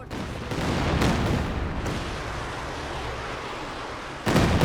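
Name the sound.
Katyusha rocket artillery firing in Company of Heroes 2 video game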